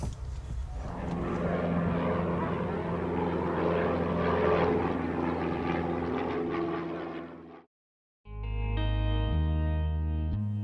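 A light propeller airplane drones steadily and loudly overhead at an aero club, its engine hum sustained for about seven seconds before a brief silence and a cut to a different tonal sound.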